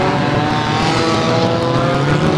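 Unlimited banger race cars, including estate cars and a big Jaguar, roar around the Mildenhall track, loud sustained engine drone with revving close by and no talk.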